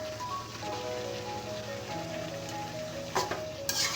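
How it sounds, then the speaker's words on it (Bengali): Potatoes are stir-fried in a beef tripe curry, with a faint, steady sizzle and a couple of sharper scraping stirs near the end, under quiet tonal background sound. "এখন আলু দিয়ে আর একটু কষাবো।"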